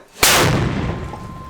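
One powerful artillery blast with a sharp onset, followed by a long rumbling echo that fades slowly.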